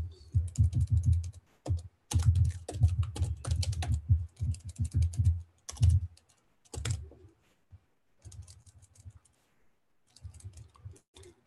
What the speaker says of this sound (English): I'm sure Greg can answer you via typing.